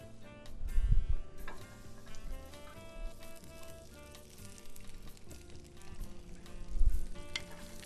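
Fish sizzles on a hot grill with a little oil, giving a steady crackling hiss throughout. A few louder thumps and clatters come near the start and end, over a faint background of music-like tones.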